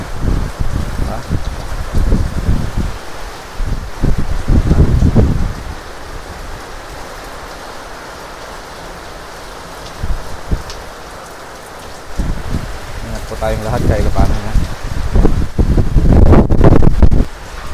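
Heavy rain and gusting wind from a typhoon in Ilocos, Philippines roar steadily, with loud blustery bursts buffeting the microphone, while a person talks intermittently over the storm.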